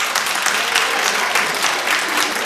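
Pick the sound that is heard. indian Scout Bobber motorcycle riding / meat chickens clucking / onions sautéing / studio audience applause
studio audience applause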